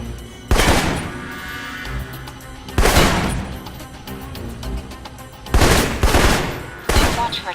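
Assault rifle fire in the video game Alpha Protocol: several loud bursts of rapid shots, each trailing off into a rumbling echo, with brief lulls in between.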